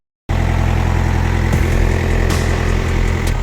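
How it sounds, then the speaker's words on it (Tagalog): A BOMAG RTK 455 road roller engine, just freed of a hard-cranking, hard-starting fault, catches after a brief silence and settles into a loud, steady, throbbing idle close by. "nakaandar na po yung ating pison"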